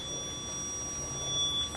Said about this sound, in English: And now it's beeping again.